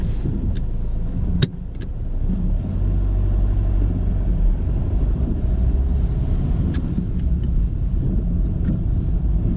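A car pulls away during a driving test, with a steady engine and road rumble heard from inside the cabin, a sharp click near the start, and no talk over it.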